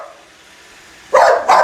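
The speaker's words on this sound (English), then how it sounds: "Barking for no reasons." A boxer dog lets out two sharp, loud barks close by after a quiet pause indoors.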